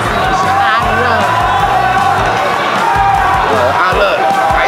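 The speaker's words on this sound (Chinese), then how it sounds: "场边的艺人选手呢也给他掌声鼓励" Celebrity contestants on the sidelines of a Taiwanese all-star sports day game show clap and cheer loudly, with a crowd roar and whoops running throughout under a commentator's talk.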